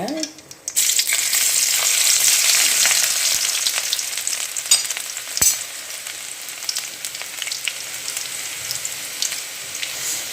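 Garlic hits hot oil and erupts into a loud, dense sizzle that holds steady for several seconds, then settles into a quieter, crackling fry with occasional pops, close up and without voices.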